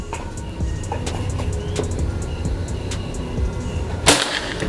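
A single sharp crack of a PCP air rifle shot rings out near the end, over a steady outdoor background with faint bird chirps.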